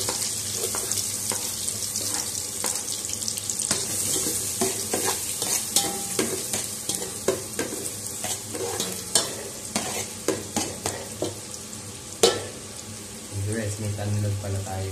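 Garlic sautéing in butter in a pan, a steady sizzle broken by repeated clinks and scrapes of stirring, close and fairly loud, with a person talking over it.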